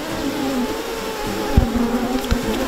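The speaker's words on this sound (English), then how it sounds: "There are so many bees around me." Bees buzz steadily and close, a continuous droning hum with a few louder passes near the listener.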